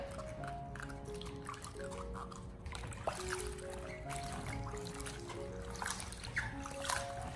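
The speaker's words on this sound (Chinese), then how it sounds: "所以我们需要尽量一片一片的给它清洗一下，把上面的沙子搓洗下来" Bok choy leaves are rubbed and rinsed one by one in a basin of water to scrub off sand, giving quiet, continuous splashing, dripping and trickling close by, with faint music underneath.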